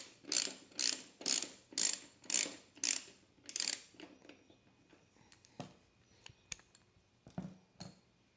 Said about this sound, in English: Got a star bit to remove the rear seat. Just need a ratchet.